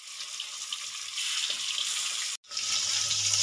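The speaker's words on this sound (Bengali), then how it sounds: "তেলটা গরম হয়ে গেছে বন্ধুরা, এবার আমি মাছগুলো ভালো করে লাল লাল করে ভেজে নেব।" Fish sizzle in hot oil, a steady bright hiss that swells louder partway through, breaks off for an instant and then resumes, close and continuous with no voices.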